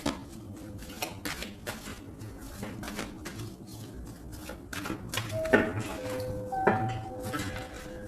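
A deck of tarot cards is cut and handled, producing a steady series of soft, quick card slaps and clicks close by, with a couple of faint tones in the background.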